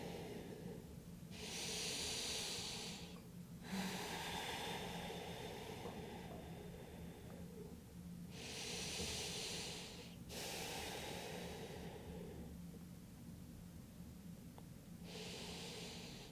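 Long, slow breaths during a gentle yoga stretch, each exhale a soft, airy rush recurring at a steady unhurried pace, close and quiet with no talking.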